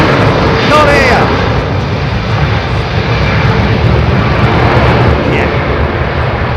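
Airliner at London Heathrow Airport in the evening, a loud continuous engine roar filling the whole stretch, with voices briefly heard over it.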